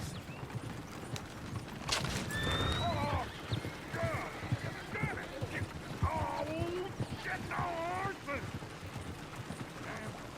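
Horses in the Red Dead Redemption 2 video game clop along on hooves while one neighs and whinnies several times in rising, wavering calls, close by, with game characters talking over the scene.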